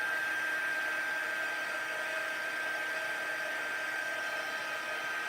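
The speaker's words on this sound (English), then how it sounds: "So I'm going to go ahead and cut it and heat emboss it." A heat gun melts embossing powder on a Christmas greeting card: a steady, loud whooshing blow with a thin whine running through it, continuing unbroken from start to finish.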